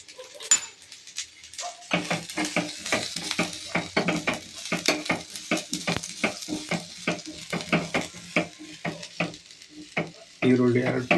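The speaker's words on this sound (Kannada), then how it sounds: "ಈರುಳ್ಳಿಯನ್ನು ಹುರಿದು ಹಾಕ್ತಾ ಇದ್ದೇನೆ." Onion frying in a pan for a Malabar spinach sambar, with rhythmic stirring strokes scraping the pan in a steady repeated pattern over a soft sizzle, close by.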